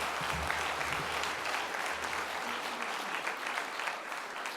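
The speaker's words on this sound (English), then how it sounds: "A big round of applause for Mark, please." An audience applauds a pitch presenter at an innovation week event, steady dense clapping that holds at an even level throughout with no voices over it.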